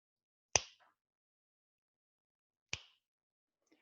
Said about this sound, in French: je vais mesurer le temps entre deux claquements de doigts